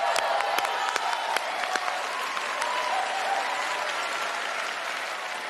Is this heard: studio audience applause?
yes